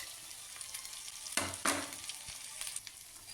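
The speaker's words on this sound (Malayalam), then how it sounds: "ബീഫ് ഇട്ടതിന് ശേഷം നല്ലപോലെ ഇളക്കി കൊടുക്കുക ഇളക്കി നല്ലപോലെ മിക്സ് ആക്കി എടുക്കണത്" Pounded beef for Kerala-style idiyirachi fries in a pan with a quiet, steady sizzle, broken by a few sharp scraping stirs near the middle.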